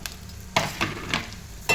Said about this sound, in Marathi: चांगलं तरी 1-2 मिनिट असं तेलावर परतून घ्यायचं